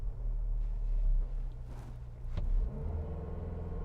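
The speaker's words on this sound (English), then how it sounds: "So let's put it here and brake torque it." A 2021 Cadillac XT4 Sport with a turbocharged 2-liter engine is brake torqued before launch: a low, steady idle rumble that swells briefly as the revs climb, then settles again.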